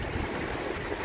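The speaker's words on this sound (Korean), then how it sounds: "엄청난 비바람이 불고 있습니다" Heavy wind and driving rain at a seaside campsite on the Byeonsan Peninsula, a dense continuous roar of gusts and rain with surf mixed in, loud and unbroken over a short stretch.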